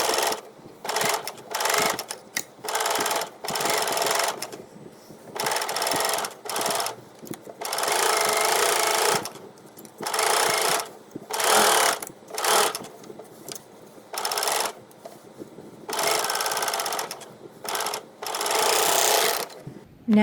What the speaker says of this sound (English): I'm just going to serge it and gain a little extra in the pocket.